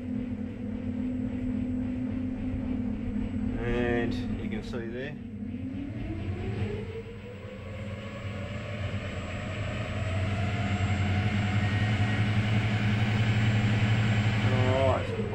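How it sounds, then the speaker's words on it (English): Electric propulsion motor on a boat spinning up under throttle during a startup test: a steady low hum with a rising whine sweeping upward, over a rumbling background, while someone talks briefly. "you can hear the motor spin up"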